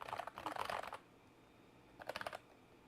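Two quick bursts of typing on a computer keyboard, rapid clicky keystrokes at close range in a quiet room, separated by a second-long pause.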